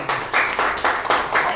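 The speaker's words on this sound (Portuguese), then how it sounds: "as palmas para Jesus nessa noite" Church congregation clapping during an evening service, a short burst of rhythmic hand claps in a few pulses, moderately loud and close with no voices.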